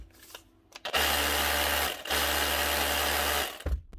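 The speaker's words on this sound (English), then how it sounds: "This is the Bosch 18 volt SDS drill." A Bosch 18 volt SDS drill, model GBH18V/26F, brought in for repair after smoking and smelling of burning, runs in two steady loud bursts of high-pitched whirring motor noise, separated by a brief pause.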